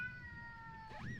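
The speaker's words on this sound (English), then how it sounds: "If you hear meowing in the background, that's the cat." A house cat gives a single rising meow near the end, fairly clear over a low hum and steady tonal background.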